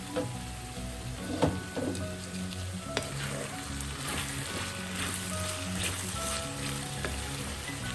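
A potato, carrot and beetroot stir fry sizzles steadily in a pan while being stirred, with a continuous crackling hiss and occasional clinks of the spoon, close and alone.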